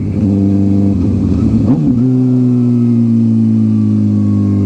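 A GSX-R sport motorcycle engine with a full Brox aftermarket exhaust system runs loud and close, blipping the throttle in a quick rev before settling into a steady, throaty drone.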